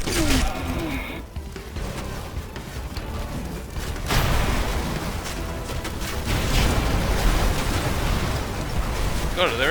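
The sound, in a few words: explosive detonating in video game Red Faction Guerrilla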